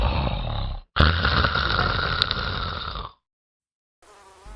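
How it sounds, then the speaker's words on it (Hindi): A man's loud, steady rasping snore, likened to a running tractor, fills most of the clip, breaking off briefly and then stopping into silence before a fainter buzz returns. "अरे यहाँ पापा की खर्राटे सुनो,"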